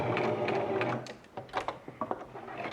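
Sewing machine back stitching at the end of a seam on a fabric mask: a short steady run of rapid needle chatter, then a pause and a few uneven stops and starts, close-up.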